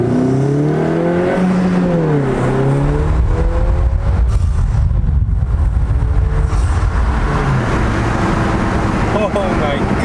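A loud 2020 Honda Civic Si engine with a PRL cold air intake revs in second gear, its pitch rising and falling as the throttle is pressed and released, steady road roar underneath.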